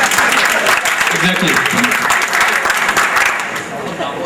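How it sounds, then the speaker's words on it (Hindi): A crowd claps at a Jazz Mobilink prize show in Jhelum, loud dense applause filling the moment while a voice speaks briefly over it. "उनके लिए तालियां।"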